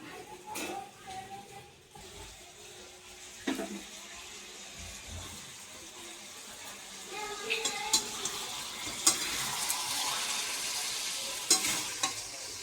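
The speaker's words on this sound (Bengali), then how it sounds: "কাকিমা এখন মাংসটাকে কষাচ্ছে ভালোভাবে সবাই মিলে চিকেন রান্না হচ্ছে" Chicken meat sizzles and fries in a pan while being stirred over steady broadband hiss, with occasional scrapes and clinks of the spoon and a brief stretch of running water, all fairly close.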